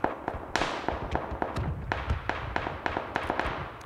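Gunfire in PUBG: Battlegrounds during an AI training match: a series of sharp, irregular shots and thuds at moderate distance, some in quick pairs, fairly quiet with no speech.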